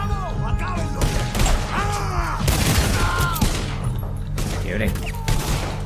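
Volcanic pistol gunfire in the Red Dead Redemption 2 video game, a rapid series of sharp shots within dense game sound of hooves, shouts and effects.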